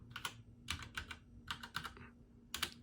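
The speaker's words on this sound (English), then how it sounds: "type the password." Bursts of quick keystrokes on a computer keyboard as a password is entered, close and clear, in short clustered runs with brief pauses.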